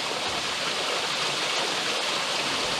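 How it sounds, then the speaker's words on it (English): The river in Linville Gorge flows with a steady, even rush of water, a constant broad hiss that neither rises nor fades. It is heard on its own, with no voices. "I am starting to hear water"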